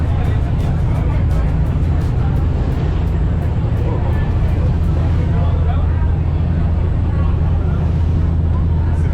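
Ferry crossing from La Ceiba to the island of Utila, a steady loud rumble of engine and rushing water with wind buffeting the microphone throughout, faint ticking above.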